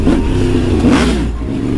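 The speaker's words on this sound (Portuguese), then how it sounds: "Mano, olha o barulho dessa moto." A motorcycle engine revs sharply, its pitch sweeping up and down in quick bursts, loud and close with no voices.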